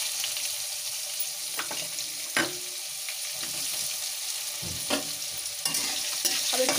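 Onion with curry leaves and asafoetida fries in a pan, giving a constant sizzle close by with a handful of scraping stirs spread through; nobody speaks.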